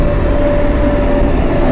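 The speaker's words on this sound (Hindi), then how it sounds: "डीजल इंजन, और ये नीलगिरी माउंटेन रेलवे" A diesel locomotive of the Nilgiri Mountain Railway toy train to Ooty rumbles loudly and steadily, with a sustained engine drone under a deep, continuous rolling noise and no talking.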